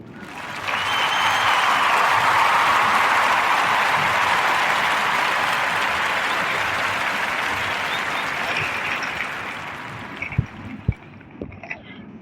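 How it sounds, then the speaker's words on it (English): A long, steady round of celebratory applause, dense and even, swells quickly and holds for about ten seconds before thinning out, with a few stray claps at the end. "I'm going to give a narrative podcast celebratory round of applause for our brother, Mr. Syria"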